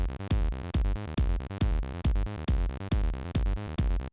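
A Korg Electribe 2 step sequence with tied legato notes, punchy synth bass hits on a steady pulse with short gaps between some notes, loud and dry with no voices.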